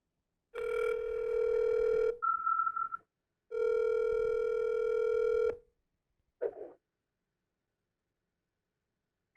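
A telephone line rings out for a public comment caller at a city council meeting: two long ring tones separated by a short beep, then a brief click, with no talk.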